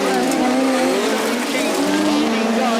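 Autograss race cars roaring loudly on a dirt track as two make contact, engines howling continuously with tyre scrub, under excited commentary.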